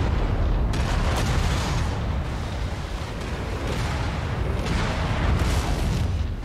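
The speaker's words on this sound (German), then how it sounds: "Ammo Explosion detected." An ammo explosion in the MechWarrior 5: Mercenaries video game sets off a loud, dense rumbling roar with surging bursts that continues for several seconds, with no talking over it.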